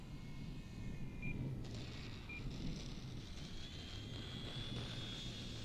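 A Twin Timber 1.6 m RC model airplane's electric power system idles on a grass field, giving a steady low rumble with a faint rising whine, continuous and fairly close throughout.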